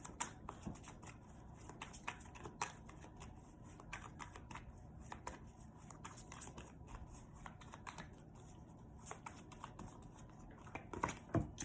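Tarot cards are shuffled by hand with a continuous quiet riffling and soft flicking, many small rapid card slaps in uneven rhythm, close and faint with no speech.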